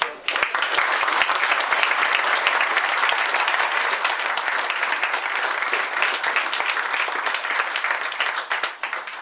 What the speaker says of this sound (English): let's have some applause for Mike.